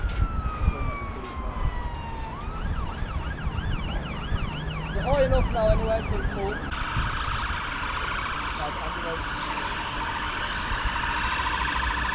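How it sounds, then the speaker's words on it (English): An ambulance siren wails loudly from the street below a 257 ft construction crane during a night climb, its sweeping rising and falling tones filling the whole stretch, with brief talk from the climbers partway through. "It is, bro, it is. It's an ambulance."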